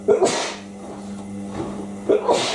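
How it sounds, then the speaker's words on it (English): A sneeze bursts out, with a sharp breathy onset and explosive release, followed by a second sneeze a couple of seconds later, close to the listener. "I'm gonna sneeze."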